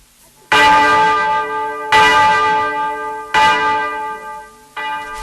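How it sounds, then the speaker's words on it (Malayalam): Church bell in a Malayalam radio drama, struck four times in slow, even succession, each loud clang ringing out with long overtones before the next strike, with no voices over it. "ചെവിയോർക്ക് പള്ളിമണി. ഞാനിതെന്നും കേൾക്കുന്നതാ."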